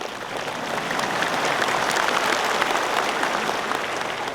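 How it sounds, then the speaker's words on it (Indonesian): Broad, dense applause from a large audience at a national Teachers' Day commemoration, swelling slightly and holding steady as a continuous wash of clapping. "boleh tepuk tangan tidak dilarang"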